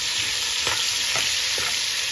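Garlic and meat fry in a pan with a steady, close, broadband sizzle, broken by a few soft stirring scrapes.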